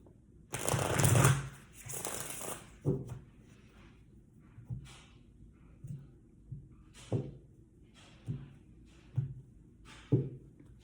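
Tarot cards being shuffled in a quiet room, a dense riffling burst in the first few seconds followed by a series of separate soft taps and thuds as cards are set down at a steady pace.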